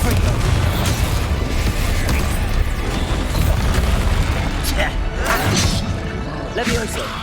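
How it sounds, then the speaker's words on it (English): In the video game Hogwarts Legacy, a Confringo blasting spell goes off in a heavy, booming explosion with rumbling bursts and whooshes, loud and continuous through a chaotic fight. "Confringo."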